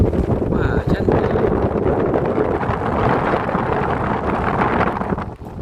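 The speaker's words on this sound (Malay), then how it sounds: "Gila lah anginnya kuat." Strong wind roars high on a 27th-floor building in Kuala Lumpur, a loud, continuous buffeting rush that batters the microphone and only eases in the last moment.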